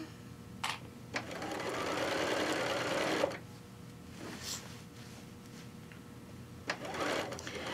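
A sewing machine stitches across quilt blocks made from fat quarters, running in a steady sustained burst of mechanical whirring, with short bursts before and after and a pause in between, close and clear.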